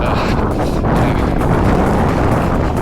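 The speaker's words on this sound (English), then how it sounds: "It's been windy now for days." Strong wind blows in Amsterdam, a loud, continuous roar buffeting the microphone with no pauses.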